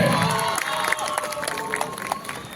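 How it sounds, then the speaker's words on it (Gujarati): A crowd at a Navratri garba night breaks into loud applause and cheering, a dense burst of clapping mixed with shouts that carries steadily for a couple of seconds. "ખેલા મિત્રો એકવાર જોરદાર તાળીઓ થઈ જાય દીકરી માટે"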